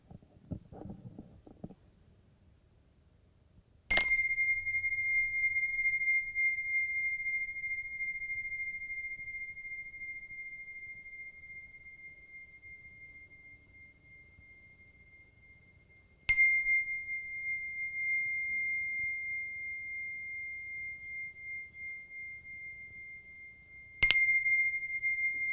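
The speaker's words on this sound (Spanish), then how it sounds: "cuando suene la campana, vamos abriendo lentamente los ojos" Three struck meditation bell tones closing a mindfulness practice, each a clear bright ring with a long sustained hum that slowly decays, spaced about twelve and eight seconds apart in an otherwise quiet room.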